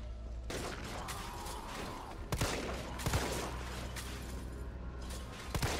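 Gunfire from Resident Evil 3 running in a 120 FPS mode on an Xbox Series S: a dense run of rapid shots with a few sharper, louder blasts standing out, no talk.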